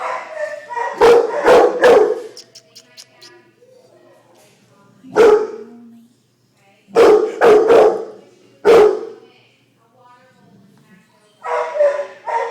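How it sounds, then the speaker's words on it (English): A pit bull barks loudly in bursts of two or three sharp barks, separated by pauses, with a few softer whimpers and yips between them. "Every time I walk away, he starts barking really loud."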